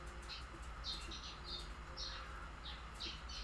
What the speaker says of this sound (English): You got a lot of birds Damn. chirping